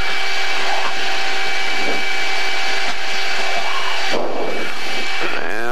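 Blue Angels jet aircraft on its takeoff roll, a loud continuous roar with a high whine riding over it, heard from close by and shifting in pitch near the end.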